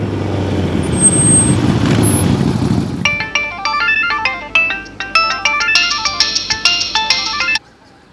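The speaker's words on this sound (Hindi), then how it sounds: "तुरंत करिश्मा सिंह को फोन लगाइए और पूछिए जहां कहीं भी ये सब छोड़ छाड़ कर वापस आए।" Phone ringing on an unanswered call, a loud repeating electronic ringtone melody of bright chiming notes that follows a stretch of low rumbling noise and then cuts off abruptly.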